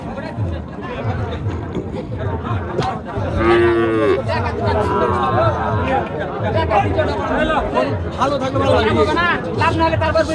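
Cattle, including cows with calves, moo loudly over a busy background of crowd chatter and voices at Chowbaria livestock market in Naogaon district, Bangladesh.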